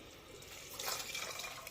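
Plain water is poured into basmati rice in a bowl, a short soft splashing pour that swells briefly near the end, faint and close with no talking.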